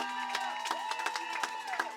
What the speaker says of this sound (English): if we can all have a round of applause for these young nurses